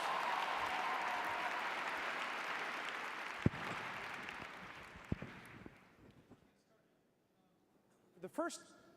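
An audience applauds at the opening plenary session of a conference: dense, sustained clapping that thins and fades out after about six seconds, leaving near silence before a brief tonal sound at the very end.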